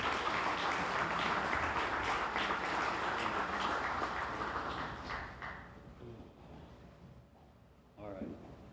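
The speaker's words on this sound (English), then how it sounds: "Let's give him a round of applause." An audience at a 2025 Wayne State University Athletics Hall of Fame induction ceremony applauds steadily for several seconds, then the clapping tapers off and a voice begins speaking near the end.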